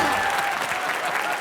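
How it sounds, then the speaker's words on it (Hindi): A studio audience at a comedy show gives a dense, continuous burst of applause, loud and close, filling the brief moment. "ठोको ताली।"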